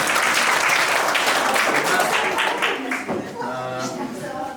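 Applause from parents and pupils at a school award ceremony for a fourth-grade class, a full burst of clapping that thins out toward the end as a voice begins speaking over it.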